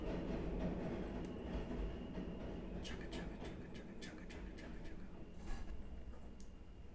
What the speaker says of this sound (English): while we listen to the train.